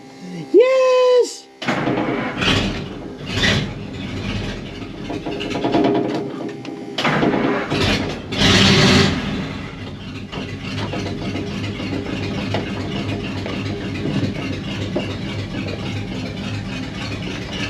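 After a 12-volt conversion, an engine cranks and catches with a loud, uneven start, then settles into a rough, steady idle. People talk over it at first.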